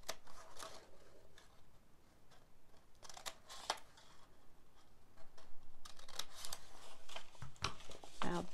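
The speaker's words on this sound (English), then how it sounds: "You're going to cut up to the horizontal line." Scissors cutting through a paper pattern in several short, close snipping bursts separated by quieter pauses, with soft paper rustle and faint handling noise.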